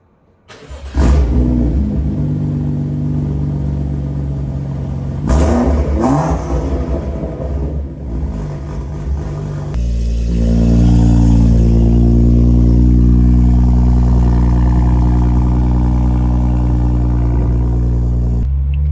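A BMW F32 engine idles, then revs loudly several times with a deep, throaty rumble from a custom valvetronic exhaust, settling into a steady roar near the end.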